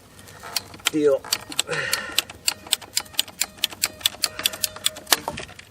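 A handheld ratcheting PVC pipe cutter bites through plastic PVC pipe during barndominium plumbing work: a steady series of sharp, evenly spaced clicks and snaps, close and crisp, following a few moments of speech at the start.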